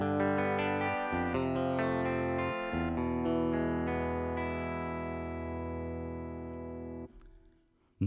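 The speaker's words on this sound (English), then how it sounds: "we have on our keyboard here a very nice Fender Stratocaster sample" Fender Stratocaster guitar sample played on a Korg Pa5x keyboard: a quick run of bright picked notes settling into a long sustained ringing tone that fades, heard alone before a brief clatter at the end.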